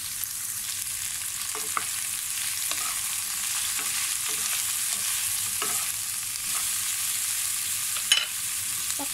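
Bitter gourd and tuna fry in a pan, a continuous close sizzle broken by repeated scraping stirs every second or so and one sharper clatter near the end; no voices.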